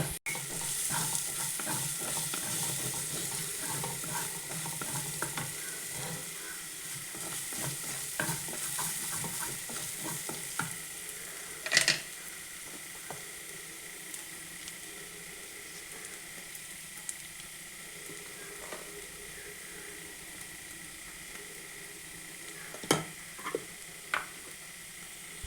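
Crushed shallots and asafoetida fry in oil with a steady soft sizzle, interrupted by a few sharp clinks of a spoon against the pan.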